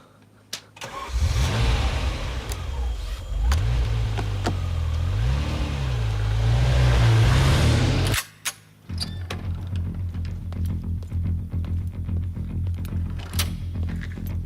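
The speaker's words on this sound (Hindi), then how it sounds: "एक गाड़ी हमारा पीछा कर रही है लैब से।" A car engine starts close by and revs through rising and falling pulls for several seconds, then cuts off abruptly, leaving quieter road and background noise.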